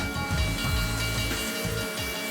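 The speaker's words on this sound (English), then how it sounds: "The train uses steam locomotives that have been in service since the 1920s" Steady loud hissing of steam from a 1920s narrow-gauge steam locomotive in Colorado fills the air, with low rumbling chugs pulsing underneath, close by.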